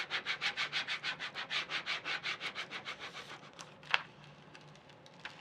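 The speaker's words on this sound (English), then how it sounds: "Scrape it down." Transfer tape is scraped down over vinyl on a cold cup wrap, giving a run of about twenty quick, even rubbing strokes up close, then quieter handling with a couple of sharp taps.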